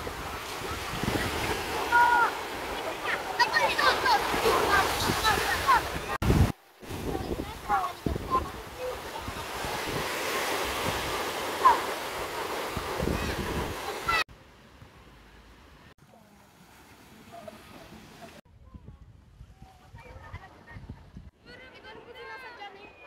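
Wind and surf at a seaside beach resort, a loud broadband rush with microphone wind buffeting for the first half, then a quieter, thinner stretch with faint distant sounds.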